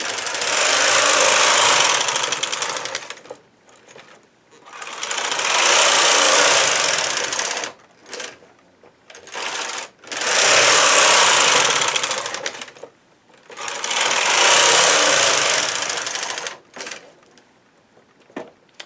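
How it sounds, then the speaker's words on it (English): A domestic knitting machine carriage sweeps back and forth across a bumpy, color-changing yarn for an afghan throw, giving four long loud whirring passes with short pauses and clacks between them, close up and with no talk. "And I just make sure my comb drops and I knit away."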